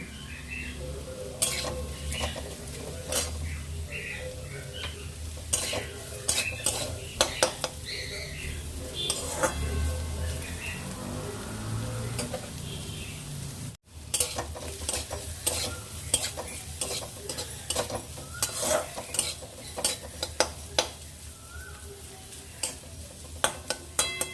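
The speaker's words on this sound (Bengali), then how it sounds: "এবার এটাকে নাড়াচাড়া করে ফ্রাই করে নেব" Boiled carrots stir-fry in a pan over a long stretch: a steady sizzle under frequent sharp clicks and scrapes of a spatula on metal, close and continuous, with one brief cut near the middle.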